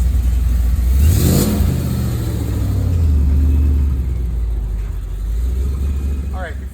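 A supercharged 3-valve 2005-2009 Mustang with a Paxton supercharger, run on a chassis dyno. The engine revs up hard near the start, then holds a loud rumbling drone and eases back toward idle, all up close.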